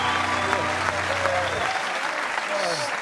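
Studio audience at a comedy panel show in a theatre breaks into steady, loud applause that fills the whole moment, with scattered voices and a short sung or spoken phrase rising over the clapping.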